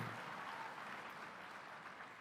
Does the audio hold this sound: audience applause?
yes